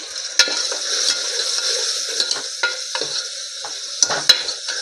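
Ground red chilli powder and turmeric stirred into hot oil with garlic, sizzling steadily while a spoon scrapes and clicks against the pan in repeated sharp taps; no talking.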